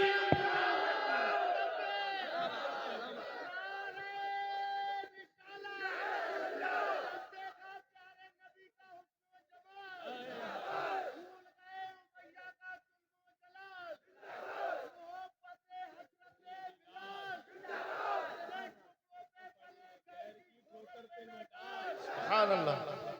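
A crowd at an Islamic religious gathering shouts a takbir chant in reply, in several loud, massed bursts of voices separated by short pauses, with a lone voice heard in between.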